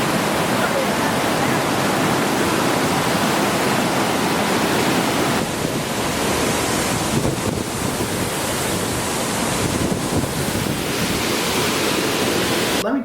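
A waterfall in South Carolina roars as a loud, continuous wash of rushing water, broadband and steady from start to finish with no other distinct sounds.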